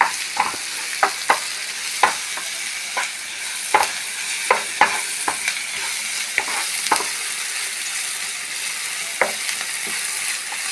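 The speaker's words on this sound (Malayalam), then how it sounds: "ഇപ്പം ചെറുതാക്കി അരിഞ്ഞ കാരണം ഇത് വേഗം ഫ്രൈ ആയോളൂ" Small chopped green peas stir-frying in a pan, with a loud steady sizzle and frequent sharp scrapes and taps of a spatula stirring at irregular intervals.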